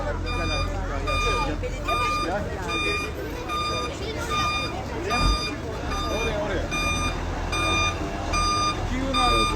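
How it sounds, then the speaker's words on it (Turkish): A truck backs up while unloading snow in Bodrum's municipal square, its reversing alarm sounding in a steady, evenly spaced run of loud beeps over an idling engine, with people talking throughout. "ikinci kamyon da çekiliyor, indiriliyor"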